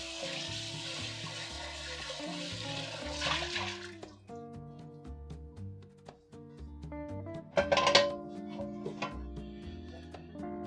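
Running tap water gushes into a cooking pan as it is rinsed out, a loud rush for the first few seconds, followed by quieter clinks and knocks of the pan in a kitchen sink.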